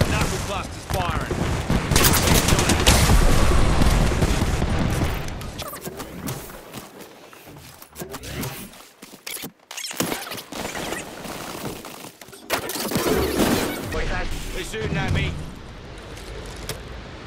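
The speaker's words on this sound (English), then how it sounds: "Enemy knuckle cluster. Knuckle cluster's firing." An enemy Knuckle Cluster weapon fires in a video game, with rapid bursts of explosive shots and impacts that rise and fall, while in-game voices speak over the action.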